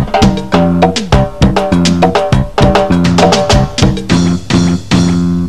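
Drums and bass played live on keyboards, with the bass line worked by foot pedals on the floor, forming a steady loud groove of punchy hits over low sustained bass notes, played alone without talk.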